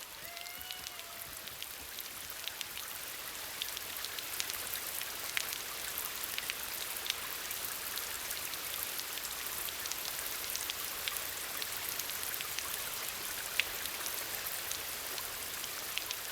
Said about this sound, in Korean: 한여름 소나기는 예고 없이 찾아온다.